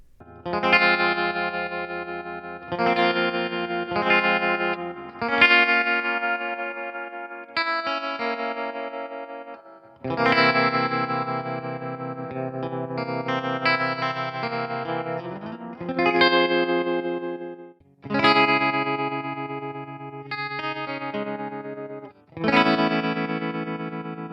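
Electric guitar chords ring out through a Fender Tonemaster Deluxe Reverb amp's wet, splashy spring reverb, strummed in bursts with lingering decay and a slight chorus shimmer.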